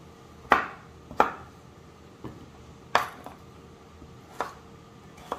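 A knife chopping vegetables into small squares on a cutting board, heard as about five crisp, separate thuds spaced irregularly, each with a short ringing tap, close and clear in a quiet room with no voices.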